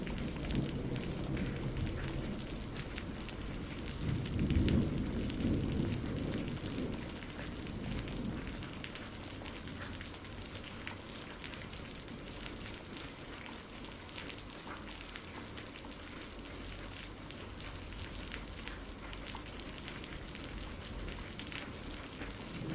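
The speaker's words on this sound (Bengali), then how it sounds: "কিছুদিন ধরে তো টানা বৃষ্টি হয়েই যাচ্ছে" Steady, soft patter of rain with a low rumble early on, continuous and fairly distant, no voices.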